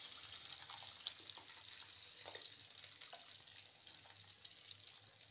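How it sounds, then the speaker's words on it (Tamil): Water pours steadily into a pan of vathal kulambu, a tamarind curry with sun-dried vegetables, giving a continuous close hiss and gentle sizzle for about five seconds with no talking. "தண்ணி விட்டு"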